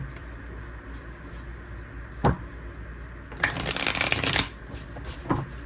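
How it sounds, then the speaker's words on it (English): A deck of tarot cards is shuffled by hand, with a sharp single snap followed by a riffle of rapid papery flutter for about a second and a soft final tap, close and fairly quiet. "One more shuffle."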